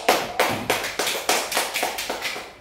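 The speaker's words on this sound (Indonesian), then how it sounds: "Marilah kita berikan aplaus untuk seksi hukum Polrestabes Makassar" A group applauds at a police legal-section gathering in Makassar with a brisk, steady patter of claps. The clapping is loud and close, pulsing in even bursts, with no talk over it.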